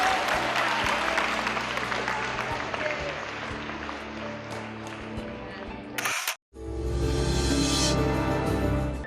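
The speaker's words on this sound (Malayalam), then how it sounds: "ശരിയാണെങ്കിൽ നല്ലൊരു വെടിക്കെട്ട് കയ്യടി കൊടുത്തേ." Parish meet audience at St Philomena's Church, Koonammavu gives hearty applause for a correct quiz answer, dense continuous clapping that cuts out briefly and resumes strongly.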